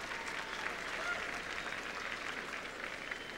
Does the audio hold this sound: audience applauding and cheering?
yes